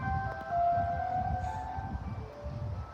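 Ice cream truck jingle ringing out in a street as the van drives off, a steady tonal melody over low rumbling traffic and outdoor background noise.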